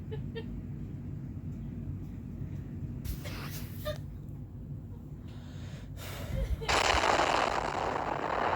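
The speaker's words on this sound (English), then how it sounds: "Vimana is firing magical energy blasts at us from afar" Magical energy blasts fired from afar by a Vimana in the Fate/Grand Order video game, heard as two bursts of noisy crackling blasts followed by a louder, sustained roar over a constant low game rumble.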